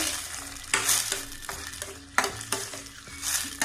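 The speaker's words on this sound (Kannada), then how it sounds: "ನೋಡಿ, ಈಗ ಕುದೀತಾ ಇದೆ." Pumpkin curry with added water cooks in a pan on the stove, giving a steady, close bubbling sizzle with irregular pops and spits and no talking.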